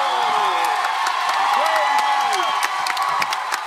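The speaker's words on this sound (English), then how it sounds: "Leap to your feet and give me a huge round of applause for the Star Wars The Force Awakens." A large Comic-Con crowd at a Star Wars: The Force Awakens panel applauds and cheers steadily, a dense wash of clapping and whoops that continues under amplified speech.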